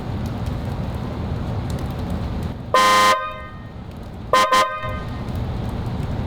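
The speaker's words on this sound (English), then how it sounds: "For this time on the car, I wanted more of a classic Ferrari trumpet noise." A trumpet-style horn fitted to a 2021+ Nissan Rogue blares twice, a sustained blast followed by a quick double toot, loud over steady rain and background noise.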